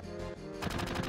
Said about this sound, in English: Little machine gun.